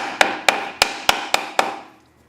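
Six sharp hammer taps fall at a steady, even rhythm, driving a part into place, each a crisp close strike with a short ringing decay, followed by quiet.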